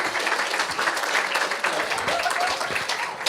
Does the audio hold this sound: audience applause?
yes